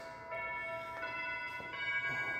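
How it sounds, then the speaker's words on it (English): A house doorbell chimes faintly with sustained ringing tones, with a few soft struck notes that overlap and decay in a quiet room. "Doorbell works."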